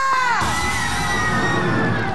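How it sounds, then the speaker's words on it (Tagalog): Crowd at an event in the Philippines shouting and cheering loudly in a sustained roar, with whoops and yells rising after a sharp bang at the start. "In fairness, konti pero malakas ang sigaw."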